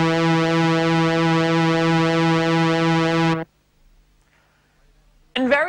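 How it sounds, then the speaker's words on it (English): A bright, buzzy synthesizer tone with pulse width modulation holds steady for about three seconds, its timbre shifting slightly, then cuts off abruptly into near silence before a brief sound at the end. "This is called pulse width modulation, and it sounds like this."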